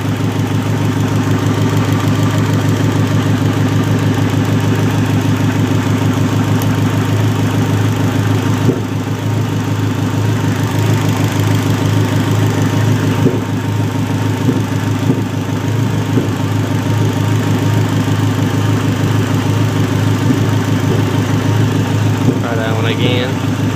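A car engine idling roughly with a poor, uneven idle, a steady close low rumble that runs unbroken throughout, with a brief higher rattle near the end.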